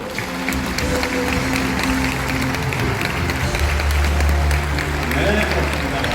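A large audience at the eve ceremony of the 29th Bucheon International Fantastic Film Festival gives sustained, dense applause in a hall. Music and a bit of voice sound underneath the clapping.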